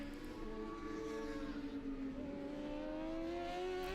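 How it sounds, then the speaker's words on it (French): Yamaha superbike racing motorcycles in a French FSBK race at Carole, a sustained engine whine climbing steadily in pitch as the bikes accelerate along the circuit, heard from a moderate distance. "Louis Bull sur la Yamaha numéro 3 du team Moto 1 parvient à passer Camus dans le 20e tour."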